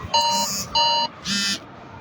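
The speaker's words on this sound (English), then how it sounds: "my alarm going off" Alarm clock going off in a room: three loud electronic beep bursts in a quick pulsing rhythm, close and clear, with no talk.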